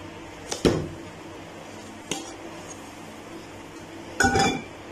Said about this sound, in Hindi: तो अब हम इसको पलट देंगे, यहाँ पे एक प्लेट लेंगे हम